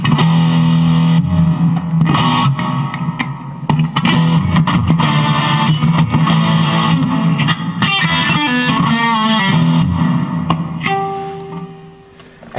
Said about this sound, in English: And then your next one is a large hall reverb.